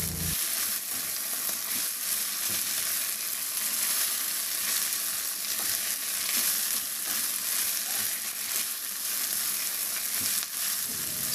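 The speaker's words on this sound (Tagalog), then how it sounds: "at i-pan fry ko na rin yung binabad kong karne" Marinated meat pan-fries in its own rendered oil, giving a continuous close, even sizzle with faint stirring scrapes and no voices.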